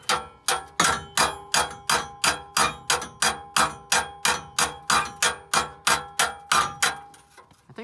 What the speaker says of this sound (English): And then we use that big freaking hammer